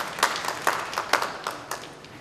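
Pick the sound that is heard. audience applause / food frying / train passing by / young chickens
audience applause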